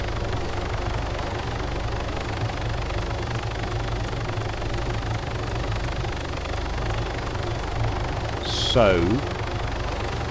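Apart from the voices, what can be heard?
helicopter engine flying in the video game ArmA 3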